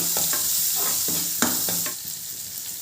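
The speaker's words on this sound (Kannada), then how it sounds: "ಒಂದು ಅರ್ಧ ಈರುಳ್ಳಿ ಇದ್ದೀನಿ ಸಣ್ಣಗೆ ಹಚ್ಚಿಟ್ಟಿರೋ ಇದೆಲ್ಲ ಫ್ರೈ ಮಾಡ್ಕೊಳ್ಳಿ" Cumin and finely chopped onion frying in a pan, with a steady close sizzle broken by scraping stirring strokes, with no talk.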